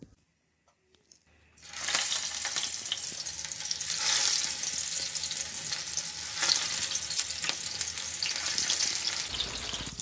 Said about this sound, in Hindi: अब हम गलफी कबाब को फ्राई करेंगे। ऑयल को हमने गरम कर लिया है।